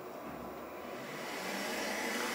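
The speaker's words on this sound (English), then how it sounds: "this is currently the volume that the printer gives out with just the fan of the power supply system at the bottom" A Creality K1 3D printer idling with only the power supply fan running at its base, a soft, steady whirring hiss that rises slightly toward the end, heard alone without talk.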